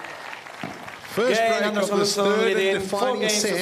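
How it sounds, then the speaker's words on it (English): A crowd at a padel match claps in the background under a commentator's voice, with the applause growing after a break of serve. "You can hear the clapping in the background"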